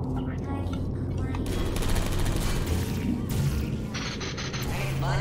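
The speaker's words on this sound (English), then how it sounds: "Shooting blanks every time." A defective turret in Portal 2 firing blanks, a continuous rattle of rapid mechanical shots and clicks with tonal electronic tones, heard under an overlapping voice.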